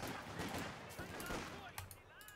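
Machine gun fire in a Company of Heroes 2 battle, with rapid bursts of gunfire crackling at moderate distance through a quiet game soundscape.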